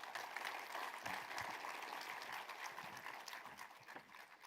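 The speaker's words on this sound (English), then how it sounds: "let's give sir a big round of applause once again" At a live trailer launch event, an audience applauds with a continuous, even wash of clapping. It sounds distant and faint, and no voices stand out.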